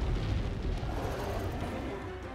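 A deep, rumbling explosion booms in the Monster Hunter Stories 2: Wings of Ruin video game, a loud sustained low roar filling the moment without speech.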